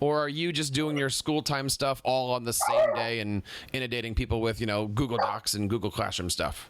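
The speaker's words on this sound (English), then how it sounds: "that was my dog barking there" A dog barks indoors during a conversation, its short barks partly buried under a person speaking continuously close to the microphone.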